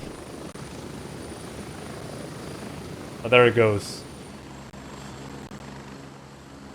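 A Gray Zone Warfare helicopter drones with a steady rotor and engine hum, constant and fairly loud, while someone speaks briefly over it partway through.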